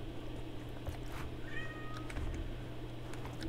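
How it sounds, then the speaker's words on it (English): A house cat meows once, brief and fairly close, over a steady low hum in a quiet room. "Also, I apologize if you hear my cat meowing at me."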